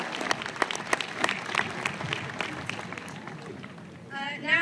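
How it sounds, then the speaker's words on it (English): Applause from a graduation ceremony crowd, with scattered individual claps standing out over a softer wash of clapping that thins toward the end, where a voice briefly cuts in. "Could I please get a round of applause for all of these people?"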